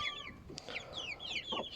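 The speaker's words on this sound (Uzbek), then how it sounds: "Mana bunimiz rekordchi jo'ja xo'rozimiz" A young Adler chicken cockerel, about 45 days old, gives a few close, chirpy clucks and short rising calls in quick succession over a quiet farmyard background.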